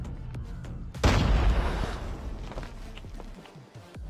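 In the Call of Duty Mobile game, a Martyrdom perk grenade goes off with a sudden loud blast that fades into a rumbling tail, set among scattered distant gunshots and footsteps.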